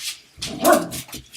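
A dog gives a handful of short barks and yips in quick succession, close and loud, with no talking.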